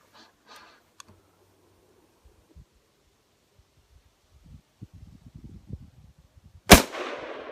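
An old military rifle fired with its bayonet fixed gives one sharp, loud gunshot with a brief ringing tail, after faint scattered clicks and handling noises.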